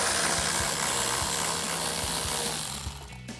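Power tool fitted with an 8mm socket spins out the last bolt on a 2018-2020 Ford F-150 grille and headlight area, a steady loud whir with faint rhythmic ticking that cuts off near the end.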